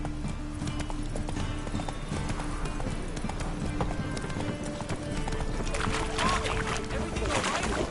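Horse hooves galloping in The Witcher III video game, a continuous rapid clip-clop rhythm, close and loud over ambient game sound.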